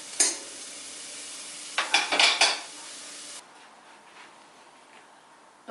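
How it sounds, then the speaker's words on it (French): Onions sizzle steadily in a pan while being stirred, with a few clattering scrapes of the utensil, before the frying settles into a softer, quieter hiss. "nous allons les faire cuire jusqu'à ce que l'oignon soit translucide"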